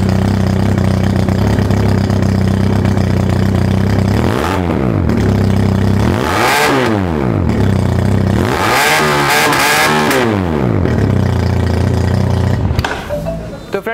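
A Zongshen 400cc cruiser motorcycle engine idles with a deep thump, then is revved up three or four times in sweeping surges before settling back, loud and close.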